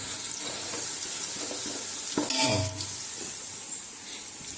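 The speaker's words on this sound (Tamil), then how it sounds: "நல்லா வெங்காயம் வதங்கணும். வெங்காயம் எவ்வளோ ஃப்ரை ஆகுதோ அவ்வளோ டேஸ்ட் இருக்கும் பிரியாணி." Onions fry in a pan for chicken biryani, giving a steady, close hiss of sizzling oil, with a brief scrape of stirring partway through and no voices.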